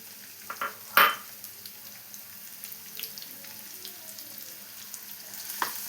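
Chopped shallots fry in coconut oil with a soft, continuous crackling sizzle, interrupted by one sharp louder clatter or stir early on and occasional small utensil taps; no voices.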